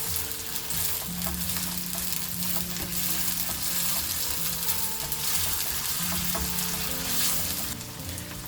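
Oyster mushrooms stir-fried Thai style sizzle steadily in a hot pan, with soft scraping and stirring sounds throughout, close and continuous, with no talk.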